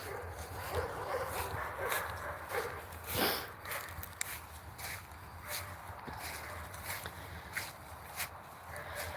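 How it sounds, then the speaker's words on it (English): Dogs bark outdoors in the evening, distant and intermittent yips and woofs scattered over a steady wash of outdoor ambience, with some faint footsteps and rustling nearby. "the dogs are very stirred up this evening"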